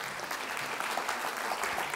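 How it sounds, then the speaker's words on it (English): Audience clapping in a lecture hall during a cooking-science lecture on modern thickeners, a steady burst of many hands applauding together with no voices over it. "You can clap."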